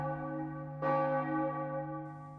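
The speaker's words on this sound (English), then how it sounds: "At churches as far away as Springfield and Worcester, bells tolled in solemn observance" Church bells tolling in solemn observance, a sustained resonant bell tone with a fresh strike near the start and long ringing decay, with no voices.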